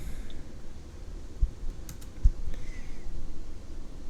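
Keys pressed on a computer keyboard while editing in a terminal on CachyOS XFCE: a couple of isolated, soft clicks over a low steady room hum, with no talking.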